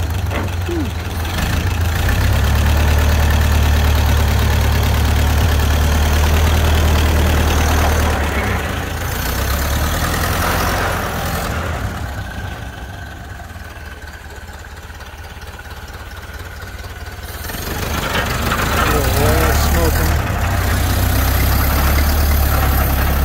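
A Ford Model A engine, off the road for 65 years, idling smoothly with a steady low rumble close by, dipping briefly midway, with people talking over it.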